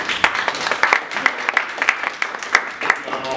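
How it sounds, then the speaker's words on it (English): A room of college students at Queens College applauds a tax accountant guest speaker, a brief burst of scattered, moderately close clapping that holds steady for a few seconds. "Round of applause for Kolonji."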